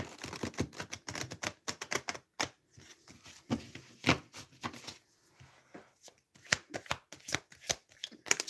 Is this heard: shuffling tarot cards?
yes